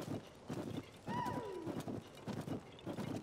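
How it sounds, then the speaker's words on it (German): A horse in Zelda: Tears of the Kingdom gallops with a steady rhythmic clip-clop of hooves, and a clear whinny rises and falls midway, with faint talk in the background. "Das beste Pferd ist immer noch Ipona eigentlich"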